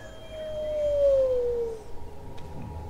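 A werewolf howl in the video game Dragon Age: Origins, a single long tone that slides slowly downward for nearly two seconds, loud and close, then gives way to a low rumbling background.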